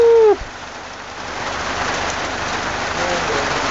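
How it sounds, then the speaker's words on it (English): Heavy rain pours down in Argentina as a steady, dense hiss that fills the scene after a short whistle-like tone at the start, with no speech. "Wouldn't be right without experiencing a downpour."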